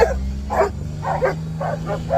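Several dogs bark and yip in short, evenly spaced bursts close by, with a low steady hum underneath.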